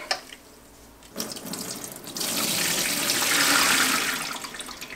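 A sink strainer is rinsed under a running kitchen tap: a short splash, then a quiet pause, then a strong, steady gush of water that rises and tapers slightly near the end.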